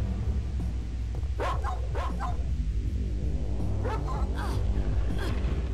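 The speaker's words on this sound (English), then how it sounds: "Oh, there's two dogs now." Two dogs in the video game Tomb Raider: The Angel of Darkness bark in short clustered bursts, several yaps in a row, over steady game background music.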